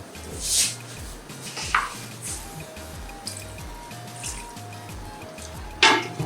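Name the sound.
water being poured into a cooking pot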